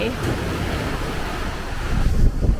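Strong sea waves on Koh Samui roar continuously in a dense wash of surf and wind buffeting, building louder toward the end.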